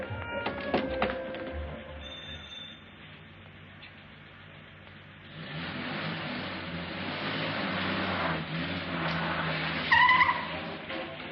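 A 1940s car pulls away, its engine and tyres rumbling with a short squeal before settling into a steady, receding drone with faint background clatter.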